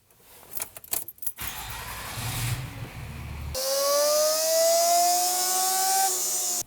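Engine being run on a dyno for a power pull on a tuned vehicle making about 370 horsepower and 795 lb-ft of torque. Brief clattering comes first, then a loud, steady engine note climbs in pitch as the revs build.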